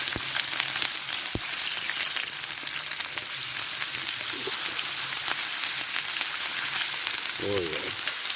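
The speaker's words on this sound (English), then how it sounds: "Oh, sizzling." Hot oil sizzles and crackles steadily in a pan while camp cooking outdoors in a woodland, a continuous loud frying hiss with occasional sharper pops.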